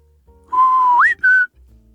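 A single person whistles a code signal for Sparhawk beer: a steady mid-pitched tone that sweeps sharply upward, a brief break, then a shorter held higher note. The whistle is clear and close, with no other sound.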